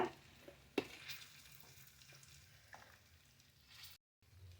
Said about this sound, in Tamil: இதில் வந்து மிளகாய் நல்லா வதங்கணும்